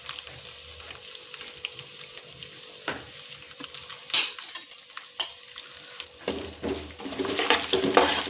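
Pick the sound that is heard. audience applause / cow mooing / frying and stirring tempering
frying and stirring tempering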